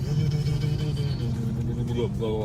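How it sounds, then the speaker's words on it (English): A 2006 Dodge Charger V8 rumbles low and steady while cruising, a deep continuous drone with someone talking over it. "where you get that beautiful rumble of the V8"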